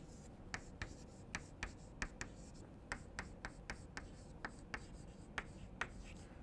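Pen or chalk writes out a Runge-Kutta RK2 method formula in a quiet lecture setting, producing a series of short, sharp tapping and scratching strokes in irregular rhythm, close and fairly faint, with no talking.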